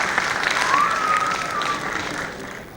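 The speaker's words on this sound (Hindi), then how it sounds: "जोरदार तालियां मैम के लिए।" Audience applause for a Bharatanatyam dance teacher after a student's performance, steady clapping close by that slowly tapers off, with a brief faint tone running through it.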